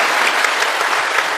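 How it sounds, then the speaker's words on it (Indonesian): Loud, close applause from a gathered audience, a dense burst of many hands clapping at once, sustained evenly for a brief moment with no talking. "Tepuk tangan untuk Kranggan."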